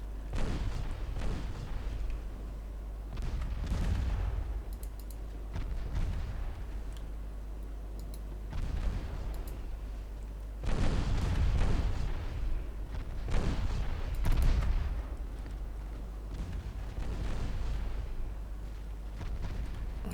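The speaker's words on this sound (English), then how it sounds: "the cruiser guns are doing quite a number on Bridgeport" Cruiser guns fire repeatedly in an Ultimate Admiral Dreadnoughts naval battle, heavy booming shots and rumbling blasts arriving in irregular clusters over a continuous low roar, loud throughout.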